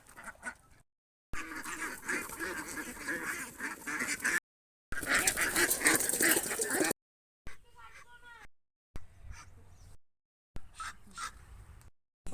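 Domestic ducks quacking in a rural village yard, bursts of loud nasal calls broken by short gaps, with people talking in between.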